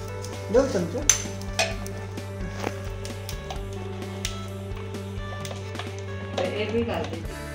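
A spoon scrapes and clinks against a pan while dhaniya panjiri prasad mixture is stirred, giving close, irregular stirring sounds with occasional sharper knocks as people talk nearby.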